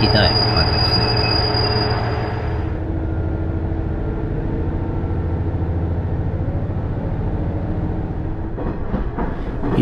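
Inside a Hanawa Line train on an early-morning run through snowy country, a constant low rumble of running gear fills the carriage, with a brief high wheel squeal at the start and faint clacking toward the end.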